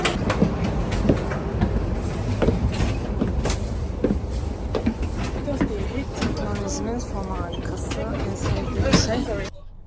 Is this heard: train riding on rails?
yes